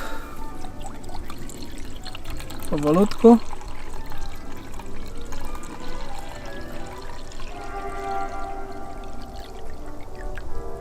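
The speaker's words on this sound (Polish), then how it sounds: "Lewamy wodę" Water pours steadily into a pot outdoors in a forest, to be boiled for coffee, while someone talks over it, a soft trickling wash under his voice.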